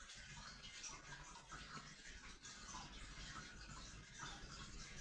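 Liquid, a green mixture, pours steadily over a tray in a miniature mushroom garden scene, a continuous soft splashing trickle heard close and alone.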